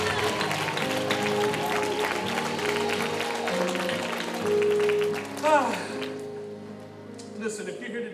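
A church congregation applauds during a worship service with steady clapping under organ-like music, while a voice speaks over it. The clapping fades toward the end.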